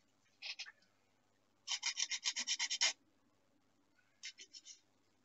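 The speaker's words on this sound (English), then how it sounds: "Which I'll now sand down." A part for a Curtiss Tomahawk IIB model aircraft being sanded by hand, close and quiet, in three bursts of rhythmic rasping strokes: a couple of quick rubs, a longer run of about nine even strokes, then four more.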